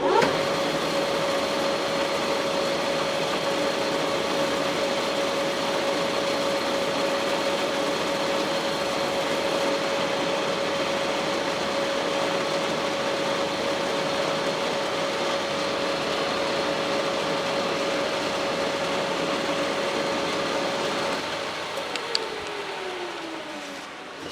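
A metal corner on a Massey Ferguson 65 tractor part is sharpened with a powered tool, giving a steady, close whirring grind with a thin whine that runs for about twenty seconds before winding down.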